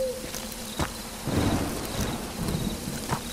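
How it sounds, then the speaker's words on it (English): Thunder rumbling through a rainy forest in the horror game Amnesia: Enigma, with steady rain and faint crickets underneath and a louder roll swelling midway. "Yeah, thunder."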